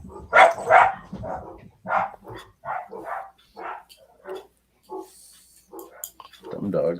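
Several dogs bark in short bursts in a room, mixed in with people talking over one another.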